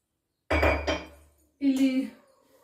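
A large drinking glass handled during kitchen cleaning gives two close clinks a second apart, the second one ringing briefly, with silence before and after.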